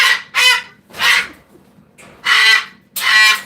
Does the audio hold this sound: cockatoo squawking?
yes